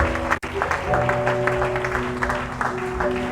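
A church congregation applauding a celebration of victory during a Sunday service, clapping spread across the room under a sustained tonal background, with a brief dropout near the start and some voices mixed in.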